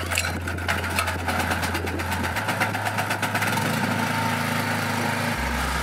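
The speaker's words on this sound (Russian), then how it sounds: "Вот здесь нам и пригодится наш генератор." A portable generator engine runs steadily, powering an electric stove, as a continuous close mechanical drone with a low hum that shifts pitch slightly; no one speaks.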